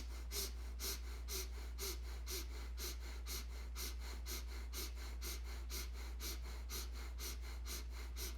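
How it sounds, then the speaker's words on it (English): Slow, steady breathing in and out through the nose during a self-care breathing exercise, a rhythmic series of soft airy breaths over a low steady hum, no talking. "beginning even inhales and exhales through the nose"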